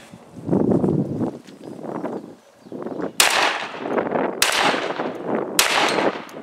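A tiger-stripe Beretta A300 Ultima Patrol 12 gauge shotgun fires Winchester Expert steel shot outdoors, three sharp loud blasts spaced about a second apart, following stretches of mixed handling and background noise.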